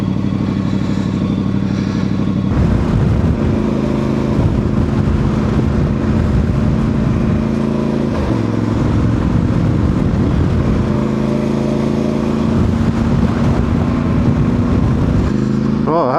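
A Voge DS625X motorcycle is ridden, its engine droning loudly and steadily close up with rising and falling revs as gears change, with wind rush throughout.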